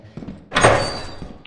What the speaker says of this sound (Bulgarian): Как ми затвори вратата?